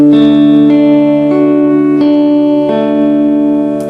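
Guitar notes on the 2nd and 3rd strings plucked in a short repeating phrase, each note attacking cleanly and ringing into the next, close and loud with no talking.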